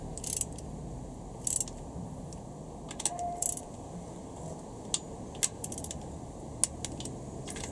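Torque wrench tightening connecting rod bolts on a Honda B18C4 engine during a rebuild, giving scattered metallic clicks and clinks over a steady low background hum, with no voices.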